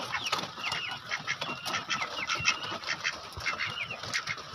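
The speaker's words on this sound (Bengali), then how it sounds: "তো হাঁসগুলো তো দেখছি ক্যাম্বেল হাঁস নাকি, খাঁটি ক্যাম্বেল।" Khaki Campbell ducks quack repeatedly among chickens in a mixed poultry pen on a farm, a busy overlapping chorus of calls heard close and steady.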